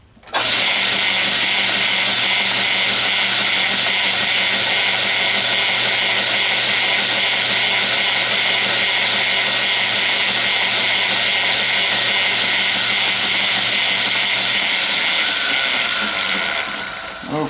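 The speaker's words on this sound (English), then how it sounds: "I'm going to plug the lathe back in." An Atlas metal lathe runs with its gear train meshing, producing a loud, continuous mechanical whir and clicking gear chatter up close that holds steady for most of the span before the motor tone drops away near the end.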